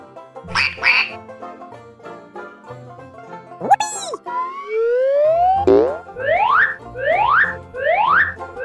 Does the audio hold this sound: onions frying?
no